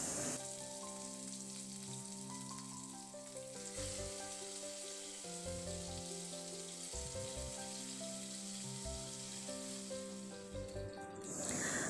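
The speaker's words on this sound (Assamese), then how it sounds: "তেল গৰম হ'লে তাতে মাছ কেইপিচ ভাজি ল'ম" Fish pieces fry in hot oil in a pan, giving a steady, soft sizzle that runs the whole time beneath background music.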